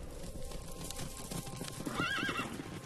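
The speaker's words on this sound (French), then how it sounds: "À la moindre alerte, ils partent au galop." Circus horses move about with a steady clatter of hooves while one horse lets out a brief whinny partway through, the sounds fairly faint and distant.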